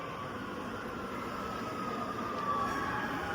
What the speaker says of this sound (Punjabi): ਆਪਾਂ ਇੰਨੀ ਉੱਤੇ ਆ ਆ ਗਈ ਮਿੱਤਰੋ ਆਪਣੀ ਮੈਟਰੋ ਜਿਹਨੇ ਆਪਾਂ ਨੂੰ ਆਪਣੇ ਘਰ ਤੱਕ ਲੈ ਕੇ ਜਾਣਾ ਹੈ